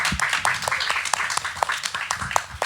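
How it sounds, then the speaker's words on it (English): A small audience at a community talk event at the Red Rattler claps in a light, scattered way, with distinct individual claps in a loose, uneven rhythm and a faint murmur underneath. "I want to give you an applause for that."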